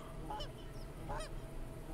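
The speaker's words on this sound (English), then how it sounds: "we got some geese flying over" Geese honk while flying overhead during a goose hunt, two separate calls a second apart, fairly distant against steady wind and background noise.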